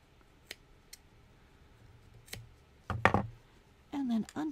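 A few sharp scissor snips trimming beading thread, quiet and close, scattered irregularly, followed by a brief voice.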